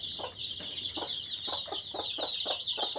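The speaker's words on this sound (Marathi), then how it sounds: "ती कोंबडी बघा किती ॲग्रेसिव्ह आहे।" A pure gavran hen clucks in a rhythmic series of short, repeated calls, close by, over a constant high chorus of background bird and insect noise.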